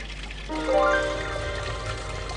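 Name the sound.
Inca stone water fountain at Machu Picchu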